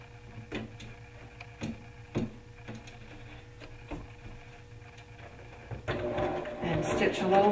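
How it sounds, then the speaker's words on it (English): Sewing machine stitching a bodice seam, a series of short evenly spaced needle bursts at a slow careful pace, followed by a faster continuous run, with a voice talking over it. "So when I'm stitching this, you can see that I'm going slowly and carefully."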